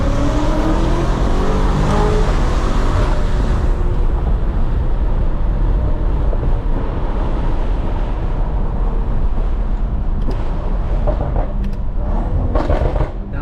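BMW F90 M5 Competition engine heard from inside the car, loud and continuous throughout, with rising and falling revs as gears change through manual paddle shifts and no talking.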